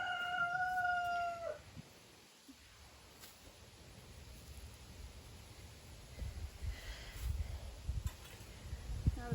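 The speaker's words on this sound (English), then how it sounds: "Now the chickens are starting to come back out to investigate." A rooster crows loudly and briefly at the start, then chickens scratch and cluck softly amid an outdoor background hiss.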